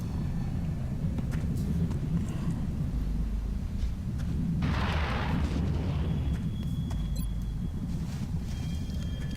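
A grenade goes off in the X-COM video game: a loud, continuous low rumble carries a brighter burst of blast noise partway through that fades back into the steady roar.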